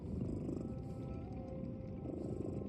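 A cat purrs in a video game, a steady low rumbling purr with a gentle pulsing rhythm, close and continuous, with no talking over it.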